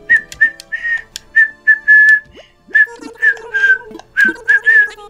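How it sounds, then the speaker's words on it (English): Human whistling, a loud close series of short chirpy notes and brief slides in a quick irregular rhythm, with small pauses between phrases. "I can whistle pretty good."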